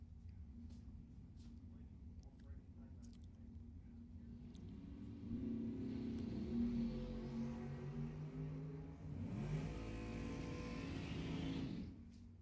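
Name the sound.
Corvette and dragster racing at a drag strip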